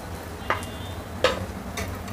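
Cheese tacos fry crisp in a pan over low heat, giving a soft, steady sizzle broken by a few sharp utensil clicks against the pan.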